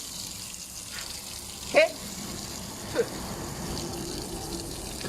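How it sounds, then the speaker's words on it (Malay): Water runs from a hose or tap to rinse leftover ice out of a refrigerator's cooler during a repair, a soft steady splashing with a couple of brief knocks and a short spoken word. "Slowkan sikit air, kuat sangat."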